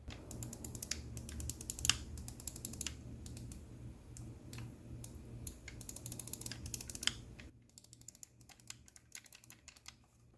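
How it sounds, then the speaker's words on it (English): Sharp clicky mouse-switch buttons on a Manba One V2 game controller, pressed in quick irregular bursts of crisp clicks, fairly close and alone, with a low steady hum underneath that drops away near the end. "They use clicky mouse switches now, and they're not hard to press anymore."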